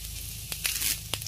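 Seeds crackle and splutter in hot oil, a steady sizzle with a few sharp pops close by.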